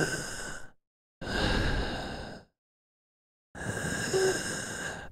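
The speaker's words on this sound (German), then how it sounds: "Gut, dann müsst ihr mit meinem Atmen zurechtkommen." Close, heavy breaths into a microphone come in three long airy bursts with silent gaps between them, each one a sighing rush with no talking.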